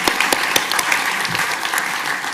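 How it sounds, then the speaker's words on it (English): Audience applause for nursing graduates at a community college ceremony, a steady dense wash of many hands clapping with a few sharper individual claps standing out, fairly loud and continuous throughout. "give them a round of applause"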